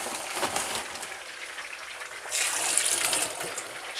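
Hot water runs steadily from a kitchen tap into a sink, a close continuous gushing hiss that swells louder partway through, with no talking.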